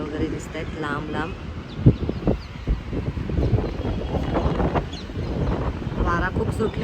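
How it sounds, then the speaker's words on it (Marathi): Strong wind buffets the microphone outdoors at a hilltop spot with a distant sunset view, a steady broadband roar and gusty rumble running throughout, with a voice talking over it. "वारा खूप सुटलेला आहे."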